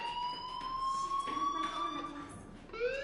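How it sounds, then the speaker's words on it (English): Fire alarm in the video game Life is Strange, a steady electronic ringing tone sustained throughout, with a rising siren-like sweep near the end and a faint voice underneath. "do you hear that fire alarm? That means you should be outside."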